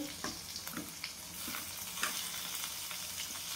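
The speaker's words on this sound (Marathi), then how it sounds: "हिरवी मिरची, लसूण जिरं, टमाटर टाकून घेते" Green chili, garlic, cumin and tomato sizzle in a pan, a steady broadband frying hiss with a few sharp spatula scrapes and clicks, moderately close, no voices.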